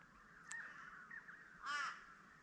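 A crow perched in a tree on a misty mountain morning at a campsite, giving faint distant caws, a short call then a longer harsh one, over quiet surroundings.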